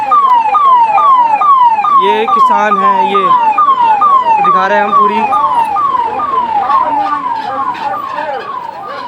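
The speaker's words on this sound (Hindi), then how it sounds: "जैसे पहले पर एंबुलेंस निकाली जा रही है" An ambulance siren wails loudly and close, repeating rapid rising-falling sweeps while passing through a crowded roadside protest, with someone talking over it and traffic rumbling below.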